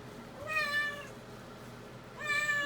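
A cat meows twice while being bathed, each a drawn-out, plaintive call close to the listener, separated by a quiet pause with faint background noise.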